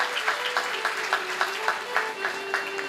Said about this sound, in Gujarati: એકવાર જોરદાર તાળીઓ સાથે આપણે